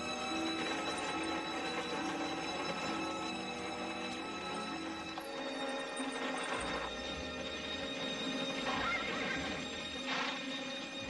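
Horses pulling a wagon whinny and neigh while hooves clip-clop steadily throughout, loud and close with a busy, continuous background.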